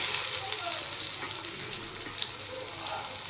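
Onion going into hot oil already seasoned with cumin and bay leaf for an egg curry, giving a steady, fairly loud sizzle and hiss that fills the whole moment without any talk.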